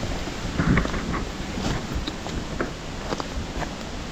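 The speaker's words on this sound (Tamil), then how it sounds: "ஏற்காட்லேயும் வந்து பார்த்திங்கன்னா மழை." Steady rain and gusting wind on a hill trek in Yercaud, a continuous rushing wash with faint scattered taps and no talking.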